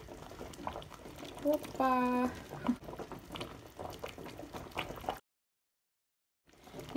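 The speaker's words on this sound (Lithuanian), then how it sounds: "O čia kas burbuliuoja, tai mano ryžai" Rice bubbles as it boils in a pot on the stove, a soft busy gurgle under a speaking voice and brief kitchen noises, then a sudden drop to silence near the end.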